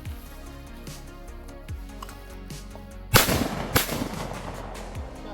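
A Browning A5 shotgun fires trick shots outdoors. Two loud, sharp blasts come about half a second apart near the middle, with fainter thuds and clicks before and after.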